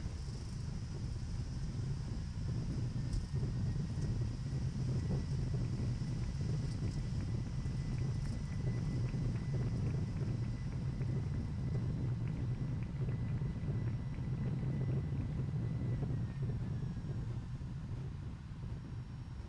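Thrust reversers on a Boeing 757-200 landing in X-Plane 11, a steady heavy roar and rumble holding at a constant loud level throughout, with no talking.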